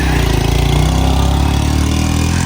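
A motorbike engine runs steadily and loudly, a constant close rumble and drone, with a faint voice barely audible beneath it.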